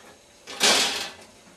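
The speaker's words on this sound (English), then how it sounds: "the playfield door pops open" The glass playfield door of a Nishijin pachinko machine pops open with a single quick rattling clack that swells into a brief hiss-like swish and fades, close by in a quiet room with no talking.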